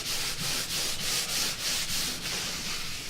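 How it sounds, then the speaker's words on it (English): Sanding old coated furniture veneer by hand, close rhythmic back-and-forth rasping strokes repeating steadily with no talk. "Why do you sand something that's already been coated and it's old veneer?"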